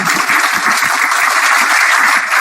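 Dense, loud applause from students in a CMA lecture class, a continuous wash of clapping with no voices.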